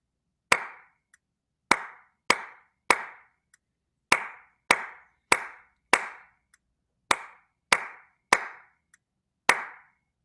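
Single sharp hand claps sound alone in a quiet room, about a dozen of them at uneven intervals, each crisp and close with a short room decay.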